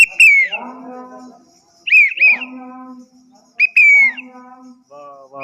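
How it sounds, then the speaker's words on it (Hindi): An elderly man at an ashram whistling loudly: three bursts of warbling, gliding tones with pauses between them, close and clear, with no talking. "ये काफ़ी अच्छी सीटी बजाते हैं"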